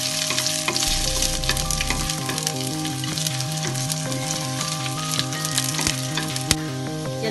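Seven dried red chillies fry with garlic and ginger in hot oil for a thoduvalai thuvaiyal, giving a steady, close, continuous sizzle with a low hum underneath and no talking.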